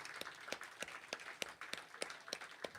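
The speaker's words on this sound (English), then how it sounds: "So let's give a round of applause." Faint, scattered applause from a small audience at a live songwriter show in an intimate venue, irregular claps rising and falling for a few seconds with no speech.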